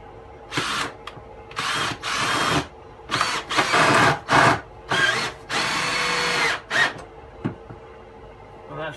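Power drill driving screws into timber during a narrowboat fit-out; a string of loud, close whirring bursts of varying length with short pauses between, then quieter handling at the end, no talking.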